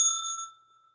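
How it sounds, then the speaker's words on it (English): A small bell is struck once as a trade alert, a bright ringing ding that fades over about half a second, with nothing else around it. "This bell's for you."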